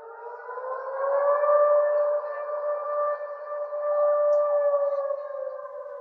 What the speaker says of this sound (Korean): 통행금지를 알리는 사이렌 소리가 들렸다